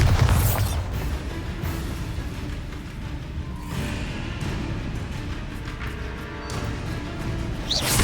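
Bombarda spell explosions in Hogwarts Legacy: a heavy blast at the start, then further booming bursts with whooshing debris a few seconds apart over a rumbling game backdrop.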